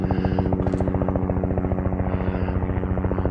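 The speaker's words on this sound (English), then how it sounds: "I don't know if you guys can hear the helicopter" A helicopter flying overhead at a desert off-road race, its rotor blades beating in a fast, steady, continuous thump that stays loud and close throughout.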